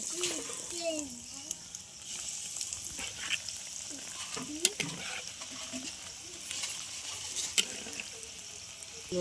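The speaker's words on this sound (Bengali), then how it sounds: "তেল দিয়ে দিলাম, ভেজে নেব।" Steady high hiss of vegetable chops sizzling in hot oil, with occasional light clinks and a faint voice in the background.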